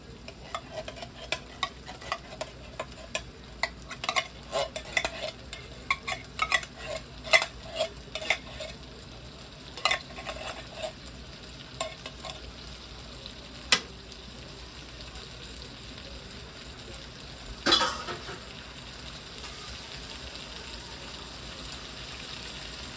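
Canned beans being stirred into a pot of trailer park chili, with repeated scraping spoon strokes and light clinks over a steady background sizzle, close and alone without talk.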